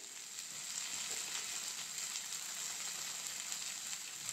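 Ground spices, coriander powder, cumin powder and red chilli powder, sizzle in hot oil with sautéed ginger and tomato, a faint, steady crackling hiss with no voices.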